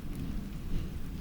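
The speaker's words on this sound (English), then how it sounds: "the rain has found a favorite spot near the stern, where it drums just a little louder against a coil of old rope, a soft, steady patter" Rain drums steadily on the deck of a slow riverboat near the stern, pattering against a coil of old rope; a dense, continuous, soft wash with a low rumble beneath it and no voices.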